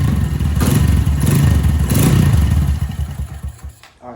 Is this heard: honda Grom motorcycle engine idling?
yes